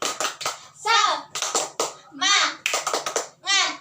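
Children chant and clap together in a classroom, voices rising in rhythmic bursts with hand claps between the shouted syllables, loud and close.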